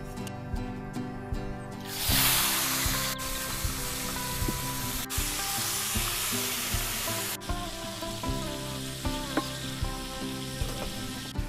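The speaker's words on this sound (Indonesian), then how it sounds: "Saiki ganti wak panggangan sing digoreng" Grilled fish and taro frying in a pan with a steady, close sizzle and hiss, bursting louder around the two-second mark, with clinks and stirring sounds scattered throughout.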